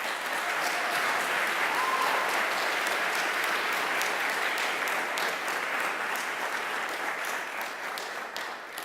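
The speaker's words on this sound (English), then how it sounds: "let's give an applause for John Wright." An audience gives a graduate steady, sustained applause at a Project Search graduation ceremony. Dense clapping fills the room evenly throughout and tapers slightly at the very end.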